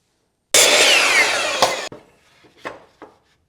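A saw cuts through wooden boards for chicken coop rafters, with a loud, close rasping cut lasting about a second and a half, followed by a few brief knocks and rattles of wood.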